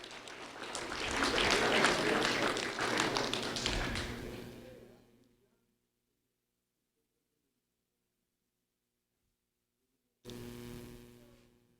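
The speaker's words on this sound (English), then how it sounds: "A round of applause for Regan and Emerson and McKenna and Alyvia" An audience at a ceremony applauds four students: dense, steady clapping for about five seconds fades to silence, then a low electrical hum starts near the end.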